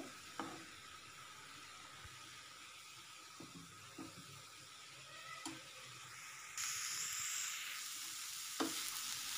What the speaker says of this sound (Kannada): ಈಗ ಬರೀ ಆಯಿಲ್ ಹಾಕಿ ನಾನು ಹುರ್ಕೊಳ್ತಾ ಇದ್ದೀನಿ